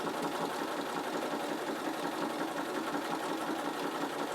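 A Bernina sewing machine stitching back over wool, running continuously with a fast, even mechanical hum and needle rattle throughout, close and steady with no pauses.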